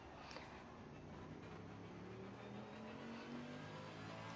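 A race car engine in the Assetto Corsa Competizione racing game at Kyalami drones steadily, its pitch climbing gradually as the car accelerates, heard alone at a low level with no talk.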